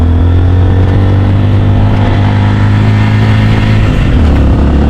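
Motorcycle labouring up a steep mountain road, its engine droning loudly and continuously at close range with a slight drop in pitch near the end.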